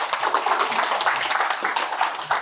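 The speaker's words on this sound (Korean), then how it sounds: "박수로 맞이해주세요" An audience in a lecture hall gives dense, continuous applause welcoming a professor before a talk on solar cells, many hands clapping together in a steady wash for a couple of seconds.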